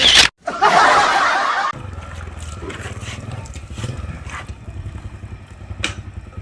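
A loud burst of noise opens, then a motorcycle engine idles with a low, steady putter, with faint voices in the background.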